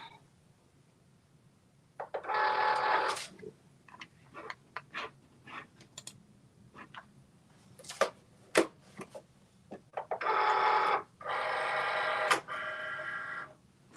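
A Cricut cutting machine running, with intermittent whirring motor bursts separated by sharp clicks and taps in a quiet room.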